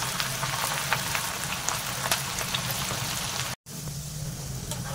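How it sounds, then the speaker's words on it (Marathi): Chopped onion deep-frying in hot oil in a kadai, a steady close bubbling sizzle with scattered crackles and pops that runs almost unbroken, with one brief gap near the end. "जर यामध्ये तुम्ही कढईमध्ये तेल छान असं तापलेलं आहे तर थोडा थोडा करून हा कांदा तळून घ्यायचा आहे"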